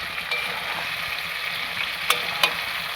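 Chicken and previously fried potatoes stirred together in a frying pan give a continuous close sizzle and hiss, with a couple of sharp utensil clinks near the end.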